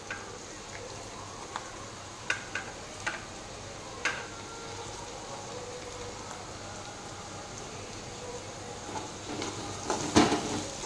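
Green chillies frying in hot oil with onions, a faint steady sizzle with scattered crackles and pops, growing slightly busier toward the end.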